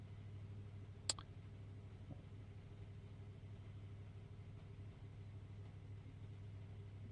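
A GT3 race car engine in the iRacing sim racing game gives a low, steady, mid-pitched drone throughout, with one brief sharp click near the start.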